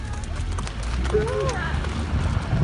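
Horse hooves clip-clop at a walk on the ground, a steady moderate beat running throughout, with people talking over and around the footfalls.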